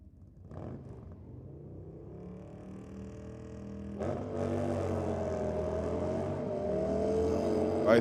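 Two drag racing bikes launch together down the strip at Sydney Dragway, engines heard from a distance rising abruptly into a sustained, building roar after a quieter idling stretch.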